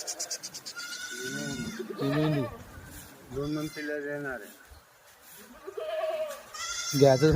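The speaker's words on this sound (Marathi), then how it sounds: "बघा मेंढ्या एकदम क्वालिटी नर" Kathiyawadi sheep bleat repeatedly with wavering, nasal calls close by, interleaved with someone talking over them.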